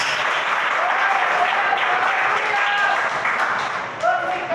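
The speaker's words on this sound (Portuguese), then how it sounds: "Mais palmas para Jesus." A church congregation claps hands together in steady, dense applause throughout, with voices calling out over the clapping.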